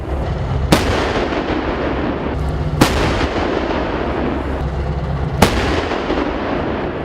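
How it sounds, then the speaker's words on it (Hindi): A K9 Vajra self-propelled howitzer fires at the Mahajan field firing range in Rajasthan. Three sharp, loud reports are spaced a couple of seconds apart over a constant low rumble. "अमिताभ जी, K9 का यहाँ पर ट्रेनिंग चल रहा है"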